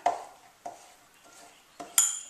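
A knife slicing through a mango on a cutting board, four separate thuds spaced unevenly, the last with a brighter clink, close by with no voices.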